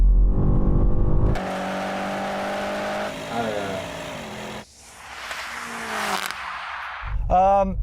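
A sports car engine revs hard and bangs against the rev limiter at launch, with shifting pitch, road noise and a brief stutter, and a voice talks over part of it.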